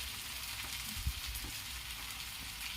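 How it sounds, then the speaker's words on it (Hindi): Bihari-style chicken masala frying in a pan on a gas stove at medium flame, giving a steady, close sizzle with an even hiss throughout and one brief knock midway. "दोस्तों इसे मैं 5 मिनट भून ली हूँ।"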